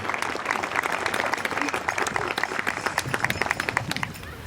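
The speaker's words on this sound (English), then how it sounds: "Got a round of applause for the Madawan Regional High School Choir" Audience applause for a high school choir at a graduation ceremony, broad steady clapping that thins toward the end into scattered individual claps.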